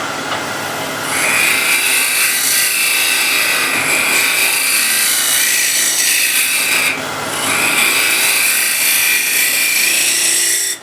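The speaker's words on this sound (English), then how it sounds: "Here I'm scraping a little hump." A hand scraper shaves a small raised hump off a flat surface, fingers pressed on the blade to damp chatter, producing steady, close, rasping strokes with a brief pause near the middle.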